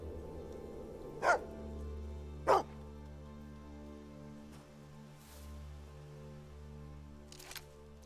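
A dog in the Fable II video game gives two sharp, distinct barks about a second apart over a steady low musical hum, with a fainter yip later on.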